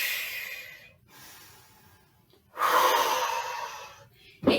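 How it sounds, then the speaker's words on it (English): Deep, heavy breaths during an exercise routine, two long airy exhales at close range, with a sharp intake at the very end. "Nice deep breaths."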